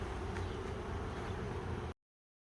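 A dense, steady buzz of many honeybees in a hive hums continuously, then the sound cuts off abruptly.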